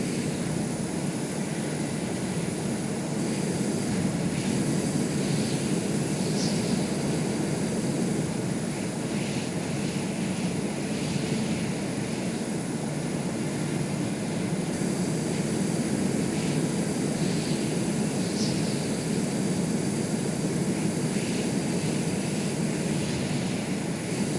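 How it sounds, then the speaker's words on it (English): Aircraft engines drone continuously in flight in the Stormworks video game, a dense, steady roar with no pauses and no voices over it. "The aircraft pitching around, then dove downwards."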